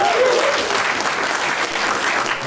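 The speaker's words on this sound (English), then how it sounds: "Round of applause for that, everybody." A stand-up comedy audience claps steadily and fairly loudly throughout, dense applause with a faint voice briefly audible near the start.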